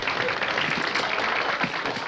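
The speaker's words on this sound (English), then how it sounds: "Hear that applause?" Studio audience applauding a magician's stage act, a steady dense wash of clapping over two seconds with some crowd murmur mixed in.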